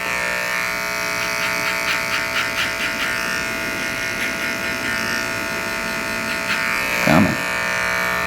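Electric hair clippers buzz steadily close by while cutting a neck taper fade with clipper over comb, a continuous hum running under faint background noise with a brief louder knock near the end.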